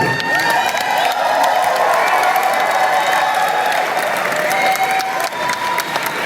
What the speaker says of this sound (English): So, just hold your applause.